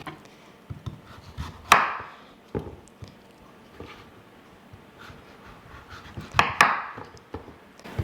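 Knife chopping through a winter squash into inch-thick wedges, giving two sharp, close cuts with a crunchy split, surrounded by quieter board taps and handling noises.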